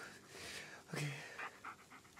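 Bullet the dog pants in the Blair Witch video game, with quick rhythmic breaths close by and a brief low whimper-like vocal partway through.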